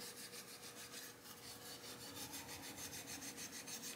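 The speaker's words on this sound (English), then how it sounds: "I'll take some triple aught sandpaper or steel wool, quadruple aught" Fine quadruple-aught sandpaper or steel wool rubbed along the neck of a Harmony H1213 archtop guitar, making a faint, steady, rhythmic back-and-forth scratching that runs the whole time without any talking.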